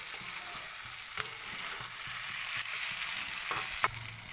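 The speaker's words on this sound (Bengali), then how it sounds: "তো এটাকে দিয়ে এবার আমি ভালো করে একটু নেড়ে নিচ্ছি।" Duck eggs and vegetables frying in a pan, a steady close sizzle with a regular rhythm of soft scraping strokes as everything is stirred together, no speech.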